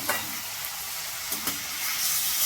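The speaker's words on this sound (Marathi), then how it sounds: "थोडी कस्तुरी मेथी घातली फ्राय करताना" Paneer fries in a pan with kasuri methi, giving a bright, steady sizzle with a few quick spatula scrapes and stirring knocks up close, no voices.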